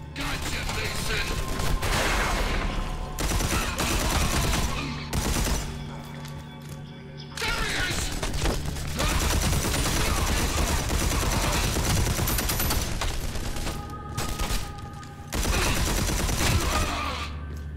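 Sustained video-game gunfire in Red Faction Armageddon, loud and dense rapid bursts with machine-gun rattles and booms, broken by brief lulls, with game voices speaking in places.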